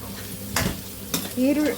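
Curry leaves and onion hitting hot oil for lemon rice, giving a close, loud sizzle broken by a couple of sharp stirring bursts over less than two seconds.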